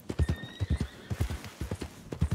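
Rapid hoofbeats clip-clop in uneven bursts in Red Dead Redemption, with a horse whinnying faintly over them; close and fairly loud.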